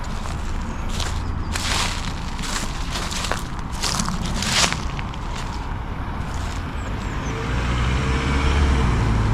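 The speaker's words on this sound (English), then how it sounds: "A few cars coming in" Cars roll into a park and ride and motorhome site in Canterbury, tyres crunching over gravel with engine rumble building toward the end, fairly close and loud.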